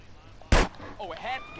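A single sharp gunshot from a weapon fired in GTA San Andreas, a loud isolated crack with a brief tail, followed by a voice talking.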